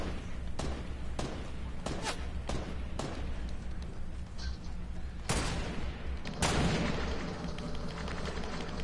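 Fortnite gunfire crackles in a string of sharp shots, several evenly spaced early bursts followed by louder blasts, over constant battle noise.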